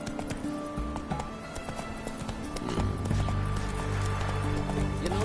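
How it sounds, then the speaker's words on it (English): Hoofbeats of a galloping horse in a PS4 video game, a steady clip-clop rhythm that grows louder and more driving partway through, with game ambience and faint music beneath. "Whoa there, Roach"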